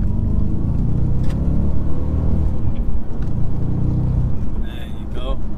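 A tuned Audi S4 with a 4.2 V8 accelerates hard, a loud, deep engine rumble close by that builds steadily, while people talk over it.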